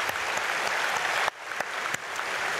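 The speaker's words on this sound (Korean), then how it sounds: "우리 차량부께 또 한번 박수하겠습니다" Church congregation at Myungsung Church applauding during an early Saturday morning prayer service, a steady dense clapping that briefly dips and then resumes, moderately loud and close, with no talk over it.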